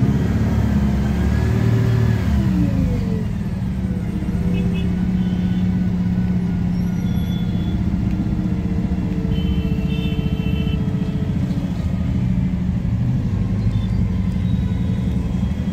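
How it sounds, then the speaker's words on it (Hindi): Heavy traffic crawls along a jammed highway near Rajiv Chowk, a dense, continuous rumble of many engines with occasional revving and distant horn-like tones, steady and loud with no talking. "हाईवे पर लग चुका है बड़ा भारी जाम"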